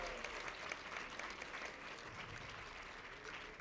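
Audience applause at a book fair panel in Guadalajara, dense continuous clapping from a sizable crowd, steady and fairly close for the whole stretch.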